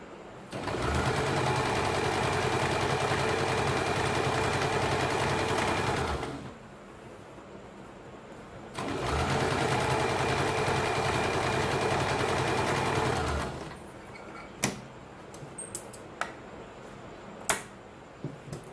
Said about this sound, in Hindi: इसके ऊपर भी हमें ये डबल सिलाई लगानी है क्योंकि अच्छे से इसको पैक करना है।